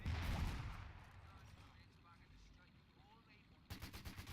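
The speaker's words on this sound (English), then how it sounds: "the Brits have a mortar pit in a prominent position on the hill, firing down" WWII battle scene in a video game of the Battle for Caen, with a British mortar pit firing from a hill; a muffled blast at the start gives way to distant rumbling fire, then rapid bursts near the end, very faint overall.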